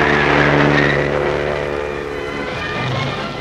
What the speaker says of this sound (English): Along a highway near Rome, the flying car makes its first test.